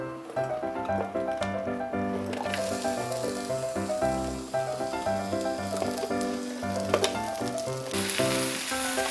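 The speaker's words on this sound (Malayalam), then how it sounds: "ഈ വഴുതനങ്ങ ഉണ്ടല്ലോ, ഒന്ന് ചെറുതായിട്ട് വഴറ്റാൻ പോവുക" Brinjal sautéing in coconut oil in a pan, giving a steady, close, crackling sizzle that runs throughout under background music.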